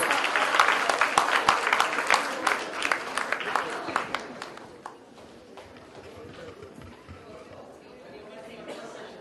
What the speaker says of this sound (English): Let's have a huge round of applause for them, please.